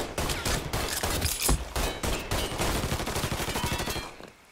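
Rapid gunfire from the video game Mafia III, a dense, loud fusillade of overlapping shots and bursts that rattles on almost without pause for about four seconds, then cuts off abruptly.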